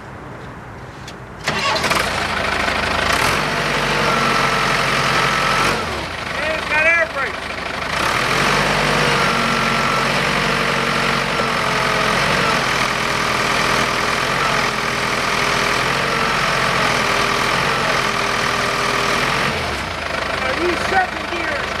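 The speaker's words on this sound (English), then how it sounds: "Watch this, watch her run. Turbo diesel." An Entwistle DTC 8606 4x4 forklift's Cummins turbo diesel engine cranks and starts, then runs with a loud, steady, rumbling idle close by, and someone talks over it.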